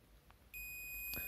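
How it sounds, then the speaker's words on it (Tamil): A multimeter's continuity beep sounds while a laptop charger cable is tested, a steady high electronic tone that starts partway in and holds close and clear, with a faint click before it. "பீப் சவுண்டு வந்து நல்லா வருது."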